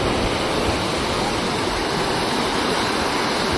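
Rushing water at Chaparai stream in Araku, swollen after rains, makes a constant, loud, close roar of cascading flow with no break and no voices.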